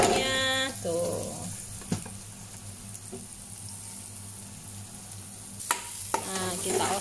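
Spices go into hot oil and sizzle steadily while being stir-fried in a home kitchen, with a few clinks of the utensil against the pan and some faint clatter at the start and end.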